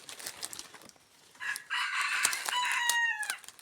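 A rooster crows loudly and close by, a long drawn-out call with a rising and falling pitch after a brief stretch of quieter background noise.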